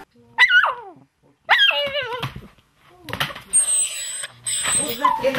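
A laika-mix puppy yelps and barks in short, high-pitched bursts, some whiny and rising, with brief pauses between and a voice briefly talking near the end.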